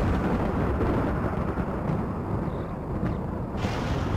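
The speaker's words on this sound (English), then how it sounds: "there's a thunderstorm going along" A steady, continuous rumble of a thunderstorm in the Rimworld video game, with dense, even rain-like noise throughout and a few faint cracks standing out near the end.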